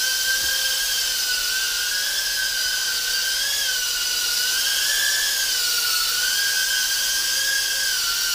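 A tiny LDARC Tiny GT7 whoop quadcopter with small props and motors spins up close by, producing a steady, loud, piercing high-pitched whine that wavers slightly in pitch as the throttle shifts.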